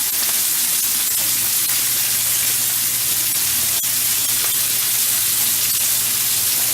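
Brussels sprouts browning in hot bacon fat in a pan give off a loud, steady hiss and crackle with scattered pops, close up and without talk.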